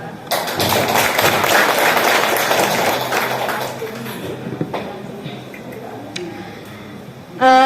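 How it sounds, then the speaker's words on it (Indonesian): Audience applause at a COVID-19 vaccine information session for children aged 6 to 11 at an Indonesian primary school, a dense burst of clapping for roughly four seconds that then thins to scattered claps and room noise. "Aplaus dulu."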